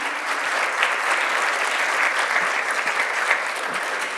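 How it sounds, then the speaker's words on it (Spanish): An audience at an international scientific symposium applauds a speaker, a dense, even wash of clapping that holds steady and fairly close for a few seconds. "un aplauso para el doctor Horacio."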